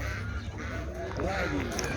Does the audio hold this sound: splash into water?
no